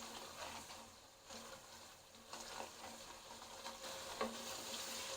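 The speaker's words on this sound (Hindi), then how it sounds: "मसाले थोड़े से भूनेंगे प्याज़ों के साथ" Spices fried with onions in a pan for a potato and egg curry, a faint steady sizzle with soft irregular stirring scrapes, close and quiet with no voices.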